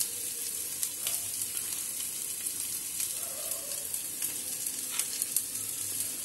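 Onions with chopped chillies frying in a pan, giving a continuous close, crackling sizzle with small pops scattered throughout and a soft stir now and then, with no voices.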